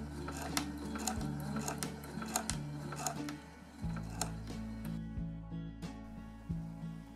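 Sewing machine stitching on old jeans, a steady rhythmic mechanical clatter with repeating gear-like ticks and a low motor hum running continuously throughout.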